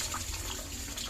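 A pump delivers water into a tube, giving a steady, soft, continuous gush and trickle with no voices.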